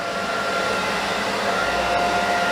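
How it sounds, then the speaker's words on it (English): A hair dryer blows steadily during a scissor-over-comb pompadour haircut, a loud, close, even whooshing hum that holds without a break, with no talk. "Never point the dryer like this."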